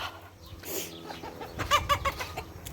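Chickens clucking and a rooster calling nearby, a cluster of short squawks and clucks in a noisy farmyard, no talking.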